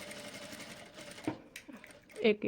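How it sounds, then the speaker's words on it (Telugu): A domestic sewing machine stitches blouse fabric up to a corner while making a neck design, a steady mechanical whir with a faint voice over it, ending in a few brief louder clicks. "మళ్ళీ ఇక్కడ మళ్ళీ మూల దగ్గర దాకా స్టిచ్ చేసుకోండి"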